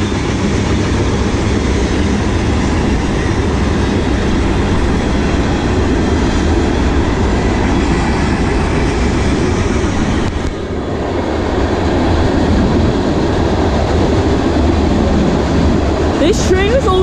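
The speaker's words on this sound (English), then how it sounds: "This train is only going 24 when it clears the defect detector." A CSX manifest freight train rolls through a grade crossing at about 24 mph, producing a loud, steady rumble and wheel roar that fills the whole stretch, with a brief dip midway and a squeal near the end.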